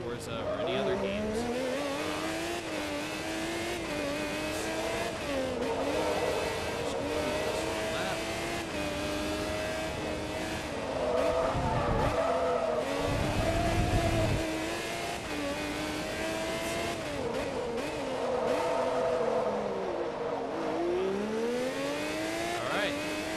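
A race car in the Forza video game runs a lap, engine note climbing and dropping through gear changes with occasional tire squeal, steady and continuous with the player talking over it.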